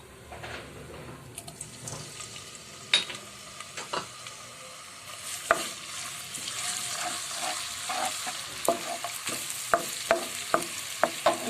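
Garlic and ginger sizzle and fry in hot oil, a steady soft crackle with frequent clicks of stirring against the pan, being cooked for a restaurant-style potato, pea and carrot curry; no one speaks.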